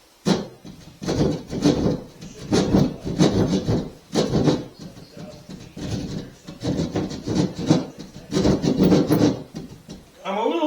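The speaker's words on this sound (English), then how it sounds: "That would zap me a 6-inch hole in the wall." A handsaw rasps rhythmically through a wall to cut a 6-inch hole, repeated loud back-and-forth strokes in uneven bursts, close up with no talk.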